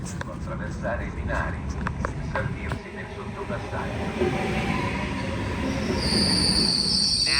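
Train wheels squealing on the rails on a European rail journey: a continuous, loud grinding rumble with a high metallic screech that rises toward the end, up close. Some voices are faintly present under the noise.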